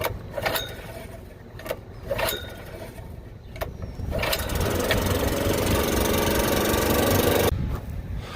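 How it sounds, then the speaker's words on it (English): A farm tractor engine cranks with a few short bursts, then starts and settles into a steady, loud idle that runs unbroken for several seconds before cutting off near the end. "let's get the tractor started up"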